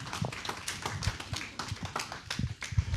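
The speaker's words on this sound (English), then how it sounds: "Clap hands for me." A seminar audience on growing a business on a zero budget claps hands. Irregular sharp claps and taps sound close and moderately loud over about three seconds, with no talking.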